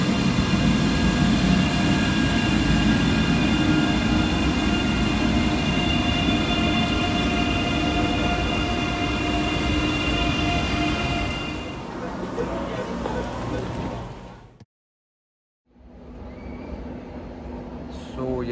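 Steady rumble and hum from inside a moving E640 train heading to Düsseldorf Hauptbahnhof, loud and continuous, fading briefly before a short dropout near the end, with some talking over it.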